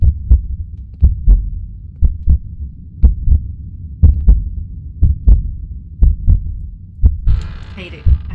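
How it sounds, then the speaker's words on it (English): A heartbeat from The Lost Fear horror video game thumps loud and close in a steady slow double-beat rhythm, with a brief burst of other game noise near the end. "I can hear my heartbeat, and I really, really don't like that."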